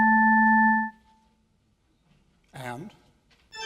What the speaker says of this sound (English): Now we can play different tones and see what happens